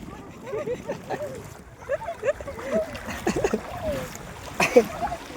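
Irregular splashing as feet wade through shallow seawater, soft sloshes and splatters at an uneven walking pace, with voices speaking nearby.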